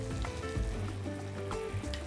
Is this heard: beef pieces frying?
yes